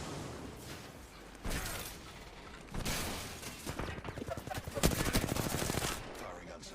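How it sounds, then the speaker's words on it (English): Video game gunfire in Apex Legends comes in several bursts of rapid automatic shots. Loud crackling volleys arrive with mechanical clicks, and a voice talks intermittently in between. "Oh no, we're getting shot from the hill."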